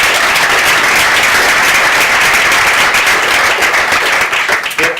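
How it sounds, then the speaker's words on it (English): A large audience applauds loudly and steadily during closing remarks at an event in an NBC Universal venue space, dense clapping filling the whole stretch before thinning slightly at the very end. "special round of applause"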